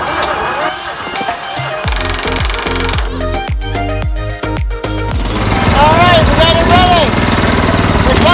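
Lawn tractor engine on a GT225 running loudly and surging, with uneven pulsing revs and sputtering bursts, then a sustained higher-pitched roar toward the end while someone speaks over it.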